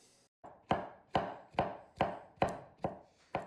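Knife chopping rinsed mushrooms on a board, seven sharp, evenly spaced chops in a steady rhythm, close and clear with no talking.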